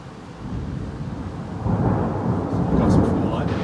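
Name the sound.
massive thunderstorm heard from cruise ship deck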